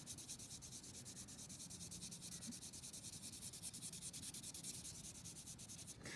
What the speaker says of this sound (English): take a little bit of your vine and just go right along the edge and take that charcoal and pull it across